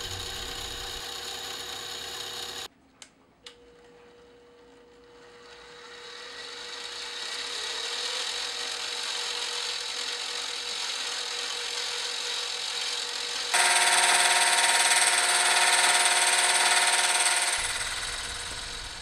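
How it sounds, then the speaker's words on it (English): A hole saw in a drill press notches steel bicycle seat stay tubing for a frame build, a steady loud grinding whine that runs unbroken and grows harsher partway through after a few brief knocks at the start. "I had to turn it up to account for the slop on the hole saw."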